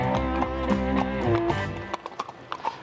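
Horse hooves clip-clop steadily on a street in Lafayette, Louisiana, with a sustained tonal background early on; the hoofbeats thin out into scattered taps toward the end.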